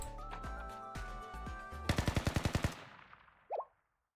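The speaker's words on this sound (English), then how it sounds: "Was that gunfire?" Rapid bursts of automatic gunfire in a video game, a run of about nine sharp, loud shots in quick succession over a steady musical bed, then a fading tail and one short later sound.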